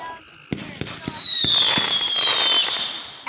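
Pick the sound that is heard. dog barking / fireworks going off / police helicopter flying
fireworks going off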